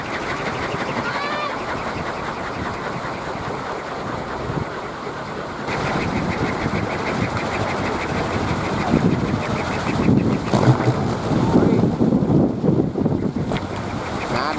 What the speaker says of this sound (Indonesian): Datang lagi angin kencang sobat